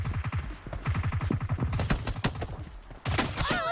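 Rapid gunfire in a team deathmatch video game, with dense bursts of shots fired close and loud in quick succession for nearly four seconds and a sharp burst near the end.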